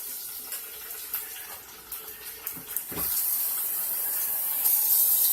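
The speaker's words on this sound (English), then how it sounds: "My water has boiled out, so I'm gonna add some more water." Water poured into a cooking pot of meat whose liquid had boiled away, a steady splashing pour running under light kitchen clatter and growing fuller and louder near the end.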